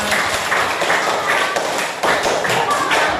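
A class of children in a school lesson clapping hands together in rhythmic patterned bursts, close and fairly loud, with some voices in the room.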